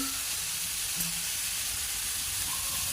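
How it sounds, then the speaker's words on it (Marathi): Steady, loud sizzling of grated carrot frying in hot ghee, a continuous crackling hiss with no voices. "कढईमध्ये आपण किसलेलं गाजर या ठिकाणी घालून घेणार आहोत"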